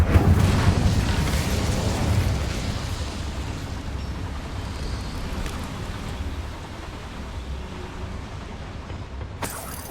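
Incendio fire spell cast in Hogwarts Legacy on PS5: a loud, dense roaring whoosh of flame that bursts at the start, then slowly fades into a long crackling rumble, ending with a sharp crack.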